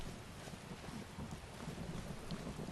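Rain falls steadily with low rumbling thunder in the Skyrim video game at night, a continuous dense hiss over a deep background roll, with no voices.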